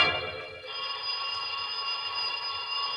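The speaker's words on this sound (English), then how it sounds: "And then the phone rang again. It's the phone again." A telephone rings steadily and fairly quietly throughout the short stretch, a continuous bell-like electronic tone with a slight shift near the start and no talking.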